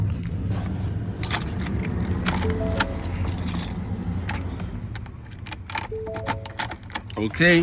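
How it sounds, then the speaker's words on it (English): Keys jangle as a key is inserted into the ignition of a 2016 Ford F-150 during key programming. Metallic rattles sound up close and a few short clicks come through under a person speaking. "So insert the key to be learned, right?"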